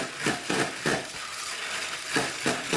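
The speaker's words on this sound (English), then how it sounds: "The hand egg beater works pretty well" Hand egg beater whisking eggs for matzo balls in a bowl, a rhythmic series of brisk metallic churning strokes with a short pause in the middle, close and clear.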